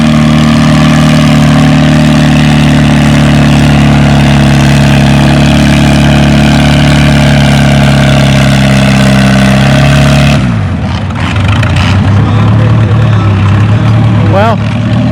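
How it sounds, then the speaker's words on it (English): A Farmall 350 tractor runs hard at a tractor pull on a wet clay track, its loud, steady engine drone holding for about ten seconds before dropping to a lower, rougher idle, with a brief rising whine near the end. "We got that Farmall 350 going."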